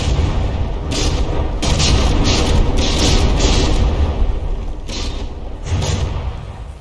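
Heavy booms and thuds from a battleship taking hits in a From the Depths naval battle, several loud impacts layered over a dense, rumbling roar with no talking.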